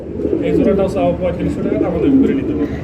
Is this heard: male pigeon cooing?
yes